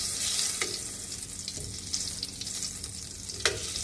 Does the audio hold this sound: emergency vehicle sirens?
no